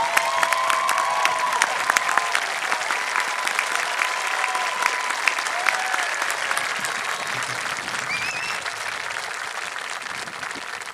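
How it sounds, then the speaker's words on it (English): Audience at the Joel Barlow High School 2026 graduation ceremony giving a sustained round of applause, steady dense clapping from a large crowd with faint cheers mixed in. "Let's give them all a round of applause."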